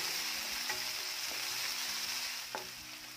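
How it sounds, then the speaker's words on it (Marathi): Chopped onion and finely chopped tomato fry in a pan during okra bhaji cooking, giving a steady close sizzle with a few faint spoon taps. No one speaks. "कांदा चांगला सोनेरी भाजून घ्यायचा आहे। यामध्ये एक छोटा टोमॅटो बारीक चिरून घातलेला आहे।"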